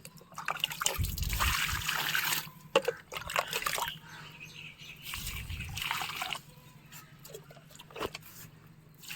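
Water poured onto plants in a terrace garden, trickling and splashing in intermittent bursts with handling noise between pours, close by and with no talking.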